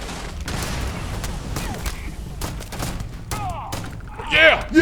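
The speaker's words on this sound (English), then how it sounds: "I'm throwing a grenade." Grenade blasts and gunfire boom in the Starfield video game, a dense run of thumps and bursts over continuous rumble, with a louder explosion near the end.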